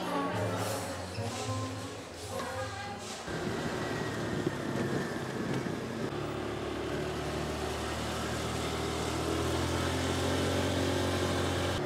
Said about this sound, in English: We're driving around the John Hay Park now